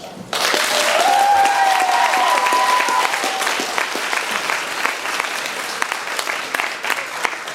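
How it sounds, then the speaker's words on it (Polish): An audience at a children's poetry recitation contest in London breaks into applause, a sudden sustained wash of many clapping hands that stays strong and then eases slightly, with a faint tone over it early on. "Wielkie brawa dla wszystkich"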